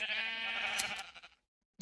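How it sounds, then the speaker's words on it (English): A single Minecraft sheep bleat from a trophy item in the video game, one wavering nasal baa lasting about a second, close and clear, followed by silence and a short click. "It lets you make a sheep-related sound when you right-click on it."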